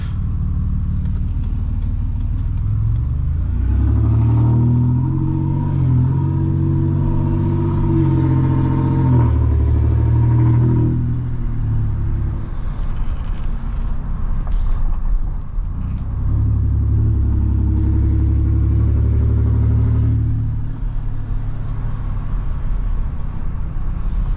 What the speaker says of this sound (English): the turbo just whistled pretty good